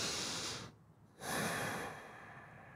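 Deep, slow breaths during a morning yoga stretch, heard close and soft: a long airy exhale, a brief pause, then another full breath drawn in and released.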